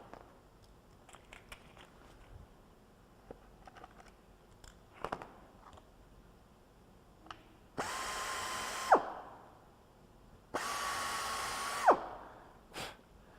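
Power drill whirring into wood while locating anchor nuts, two bursts of a few seconds each with short faint clicks and taps between, close and fairly quiet overall.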